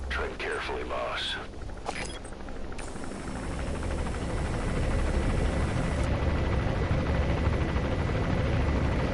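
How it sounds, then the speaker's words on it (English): Enemy helicopter gunship in Metal Gear Solid 5, set in Afghanistan, a steady loud rotor drone that grows louder and closer, with someone speaking over the start. "That's an enemy gunship."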